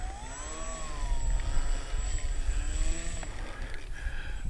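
An Apprentice S 15e ready-to-fly electric RC model airplane taxis out onto grass, its motor giving a steady, moderately loud whine with gently wavering pitch, alone without talk.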